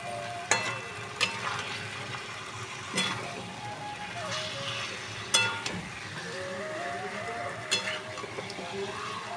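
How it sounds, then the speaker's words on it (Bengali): Chicken being fried and stirred for a green hariyali chicken curry, with a steady sizzle and a few sharp scrapes and clinks of the spoon against the pan. There is also a faint background tone and no talk. "এবারে মাংসটাকে একটু কষিয়ে নেবো।"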